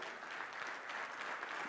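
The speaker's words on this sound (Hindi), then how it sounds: "तो एक बार तालियां उसके लिए हो जाएं यार" An audience claps in sustained, dense applause for a performer at a motivational talk, a steady, even wash of many hands at moderate distance with no voices over it.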